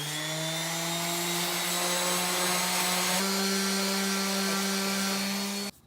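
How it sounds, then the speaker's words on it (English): A small orbital sander whines steadily as it smooths the top of a wooden beer tap handle, its pitch dropping slightly midway before the motor cuts off abruptly near the end. "Just use a little orbital sander. I'm just gonna sand down the top of this thing"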